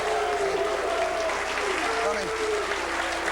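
A television studio audience applauds for wrestler and manager Lou Albano on a late-1980s talk show, a steady wash of clapping at moderate volume with voices mixed in.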